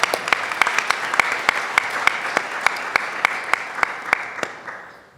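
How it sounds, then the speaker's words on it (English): An audience at an economic summit gives a round of applause, with distinct individual claps standing out over the steady clatter and fading toward the end. "Give him a round of applause."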